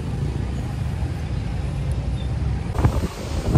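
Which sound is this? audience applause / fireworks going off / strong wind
strong wind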